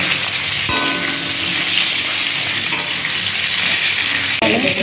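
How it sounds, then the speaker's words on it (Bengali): Pointed gourd (potol) fries in a pan with a continuous, even sizzle, with a couple of sharp clanks from stirring or the lid being set down, and no voices. "নাড়িয়ে চাড়িয়ে ঢাকা দিয়ে ভাজা ভাজা করে নেব"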